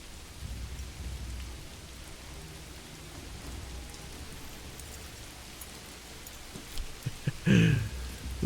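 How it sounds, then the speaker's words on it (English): Rainfall in the medieval strategy game Manor Lords, a constant even wash of rain that swells into a louder burst near the end. "It's rainy."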